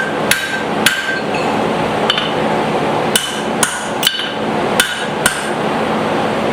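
A hammer strikes a guillotine tool while forging a tiny hammer, sharp ringing metallic blows landing in an irregular rhythm, about ten hits, loud and close over a steady fan hum.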